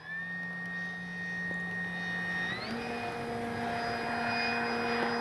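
A FLEX RV-8 60E G2 radio-controlled electric model plane drones overhead in slow flight into the wind, its motor a steady, moderately loud whine that shifts pitch partway through.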